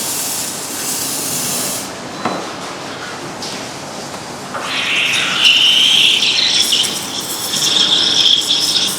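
An espresso machine's steam wand heats milk in a pitcher for cappuccino or latte. Steady loud hiss throughout, rising into a higher, gurgling whistle partway through as the milk froths, with no talking.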